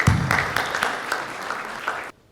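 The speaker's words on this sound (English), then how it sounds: "A big round of applause for all the members of Governing Council and His Excellencies." A lively round of applause at a business networking meet for governing council members, dense clapping with sharper individual claps standing out, ending abruptly.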